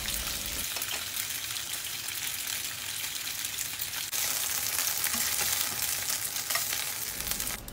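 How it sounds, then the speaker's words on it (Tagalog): Beef frying in a pan over medium heat gives a steady, moderate sizzle and crackle with no voices, growing slightly louder and denser partway through. "ipirito naman po natin yung mga natitira pa natin na beef. Ito po ay pinrito ko lang over medium heat."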